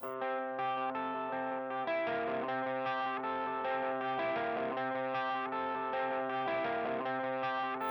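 Heavily distorted electric guitar chords play continuously with a swirling, echoing effects-laden tone, loud and unbroken.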